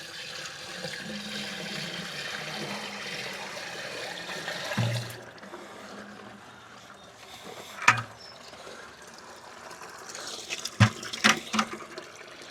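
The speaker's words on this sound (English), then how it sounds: "Now for the flush." Toilet flushing with several flushable wet wipes dropped into the bowl, a steady rushing wash of water throughout with a few sharper knocks and gurgles toward the end, close and moderately loud.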